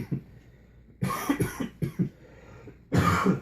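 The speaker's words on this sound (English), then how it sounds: "I'm still coughing." Several harsh coughs in quick bursts, close and loud, separated by short pauses, with a final heavier cough at the end.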